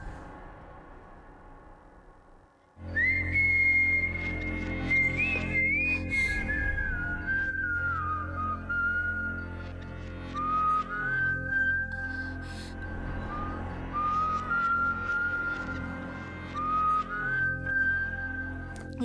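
Someone whistling a slow, wavering melody of sustained notes, clear and fairly close, over a steady low background hum with no speech, heard in a church.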